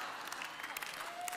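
Church congregation clapping during a Sunday morning service, a brief, fairly soft patter of applause from the crowd with light background murmur.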